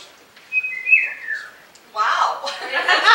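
A catbird calling near a cottage, giving a clear descending whistled note followed by a harsh, raspy burst of sound, fairly close and loud.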